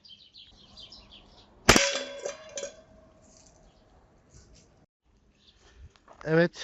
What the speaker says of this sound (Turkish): İkinci atışta da tavayı devirdik.